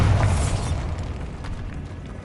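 Bombarda blasting spell from the game Hogwarts Legacy, a single loud booming explosion that rumbles and fades over about two seconds, with no talk.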